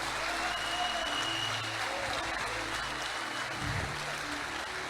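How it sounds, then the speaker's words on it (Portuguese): A church audience claps in steady, continuous applause, a dense wash of hand claps heard at moderate distance without a break. "Eu quero um aplauso à altura aqui."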